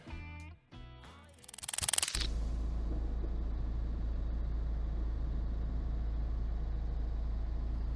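A Citroën 2CV race car sits idling on the starting grid at Mallory Park, its steady low engine drone loud and close, starting after a brief burst of rubbing and revving noise.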